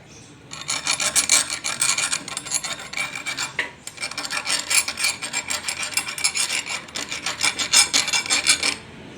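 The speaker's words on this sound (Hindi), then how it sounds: "हमने रेती के साथ इसको थोड़ा सा हम साफ़ कर लेंगे, इसके कोने साफ़ करेंगे" A hand file rasps back and forth over the corners of a washing machine rotor in quick, loud, close strokes, in two long bursts separated by a brief pause.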